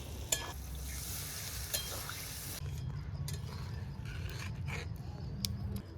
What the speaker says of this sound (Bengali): কাঁচা লঙ্কা বাটা দিয়ে তেলের মধ্যে কষিয়ে নিলাম